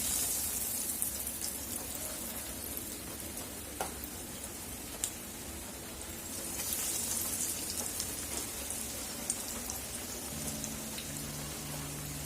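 Continuous crackling sizzle of food frying in hot oil, steady and close, with a few sharp pops.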